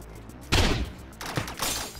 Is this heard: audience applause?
no